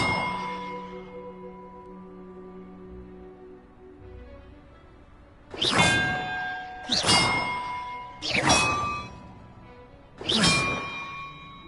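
Four loud metallic bell strikes ring out in sequence at roughly even intervals in Hogwarts Legacy, each clang decaying briefly before the next, following a stretch of low ambient game sound.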